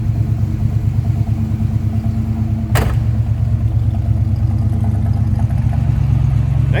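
A 1981 Chevrolet Camaro Z28 idles with a steady, close, low rumbling engine note, interrupted once by a brief sharp click.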